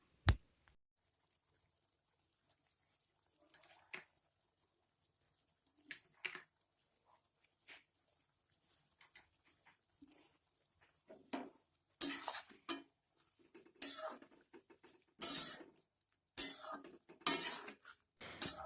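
Mustard paste goes into simmering drumstick curry in a pot, with faint scattered clinks of a spoon, then louder repeated scraping and knocking of utensil against the pot in the last several seconds.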